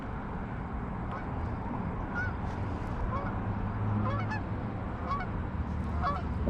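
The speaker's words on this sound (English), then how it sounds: "Don't poop on me, geese, please." Geese honking near a lakeside bass fishing spot, repeated loud honks from several birds over a steady outdoor wind and water noise, fairly close.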